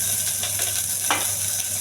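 Garlic sizzling in a little hot oil for a tempering for cucumber dal, a steady close crackling hiss with a brief sharper spurt near the middle and no talk.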